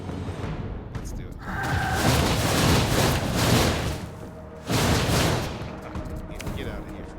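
Corpse Explosion effect in the card game Cards and Castles 2: loud, rolling bursts of crackling booms in two surges, like a volley of blasts over steady game noise.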